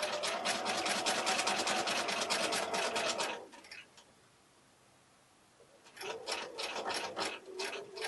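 A sewing machine stitches quilt blocks together in a rapid, rattling run, pauses for a few seconds of near silence, then starts stitching again at close range, with no voices.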